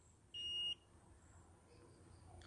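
A multimeter's continuity buzzer gives a single short, steady electronic beep near the start while testing a shorted capacitor on a TV panel board, then fades to a quiet hum of background noise.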